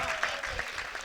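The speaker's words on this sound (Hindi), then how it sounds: "बस जोरदार तालियां" Audience applause at a Banaras poetry mushaira for poet Shakeel Azmi, a short, steady burst of crowd clapping with a busy, dense texture throughout.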